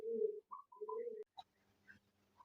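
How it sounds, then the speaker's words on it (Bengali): Lahori pigeons, female birds kept on a pigeon farm, give a few low, close coos in short phrases, followed by quiet gaps and a faint rustle at the end. "আমি একটা 3 পিস লাহোরি কবুতর মাদি দেখা দিচ্ছি আপনাদের মাঝে"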